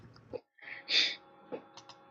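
A single sharp human sneeze with a quick breathy lead-in, close and fairly loud, followed by a faint short intake of breath.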